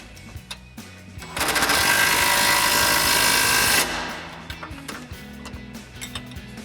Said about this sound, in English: we can go ahead and tighten those down using our 18mm socket on our impact and an 18mm wrench